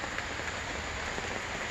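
Heavy rain pours steadily onto an air mattress draped over a 2005 R50 Mini Cooper, a dense, close, continuous patter with no voices.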